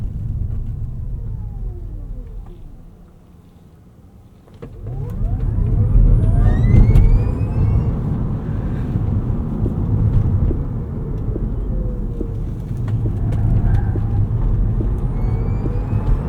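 A 2025 Rivian R1S in sport mode pulling through corners, a steady low road and motor rumble that dips briefly, then swells back louder and holds, with no talking.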